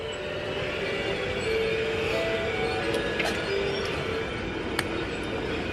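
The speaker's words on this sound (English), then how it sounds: "Let's catch Thomas coming by with one of the elves. Choo choo" A small Thomas the Tank Engine display train rolls past in a Christmas light display, giving a steady mechanical rumble and rattle with faint tonal whines and a few light clicks, close and continuous.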